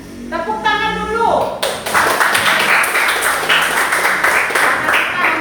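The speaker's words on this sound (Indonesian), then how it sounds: "Tepuk tangan dulu." Classroom of pupils clapping hands together in a loud, dense burst of applause that starts after a brief moment of children's voices, continuing steadily and close by.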